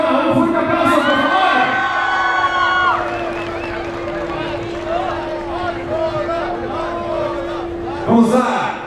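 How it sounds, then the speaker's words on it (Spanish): A studio audience at an Ecuadorian televised impersonator talent show cheers and shouts loudly, with excited high voices over a crowd roar and a long sustained tone running beneath, swelling again at the close. "Un fuerte aplauso, por favor"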